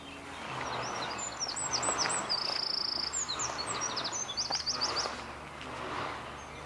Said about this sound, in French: Ah, il y a des petits oiseaux.